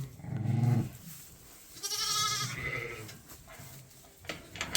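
Sheep bleat several times nearby, a low call followed by a louder, wavering bleat, with scattered rustling and knocks around them.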